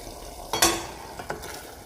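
Haitian fish stew (sauce pwason) stirred in a pot, with two or three short, close scraping strokes of the spoon over a quiet background and no voices.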